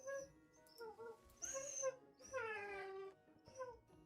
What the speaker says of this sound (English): My dog is crying.